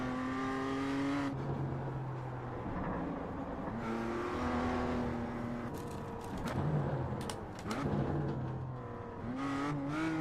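A GT3 race car in the iRacing sim revs hard to around 7,200 RPM, its engine note climbing through gear after gear and dropping on each shift, loud and continuous for the whole stretch with no talk over it.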